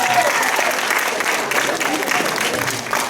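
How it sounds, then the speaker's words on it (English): An audience at a house science quiz breaks into loud, sustained applause, with dense clapping and some cheering throughout. "give her a round of applause."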